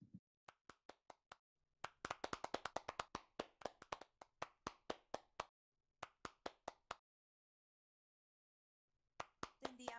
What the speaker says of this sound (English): we should give this panel a round of applause